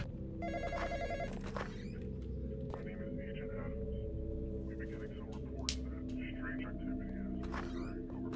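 A telephone rings inside a Roblox graveyard game, a short electronic burst near the start heard over steady background hum and players talking.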